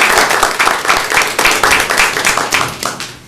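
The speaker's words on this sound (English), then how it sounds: "I think deserves a round of applause, don't you?" A small group at a board of commissioners meeting gives a round of applause, close and steady hand claps with a loose rhythm lasting a few seconds, no talking over it.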